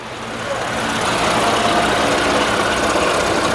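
A Jeep Renegade engine idles with a strange noise, a steady loud close rumble with a faint knocking texture that swells slightly at the start and then holds even.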